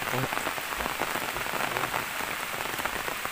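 Heavy rain pours down steadily in dense, hissing sheets, with close drops pattering on surfaces, continuous and even with no voices.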